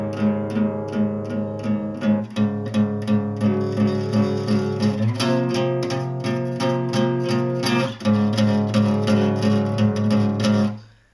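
Electric guitar with distortion plays the intro of a song, repeated driving chord hits that shift position twice, close and loud, stopping abruptly at the end.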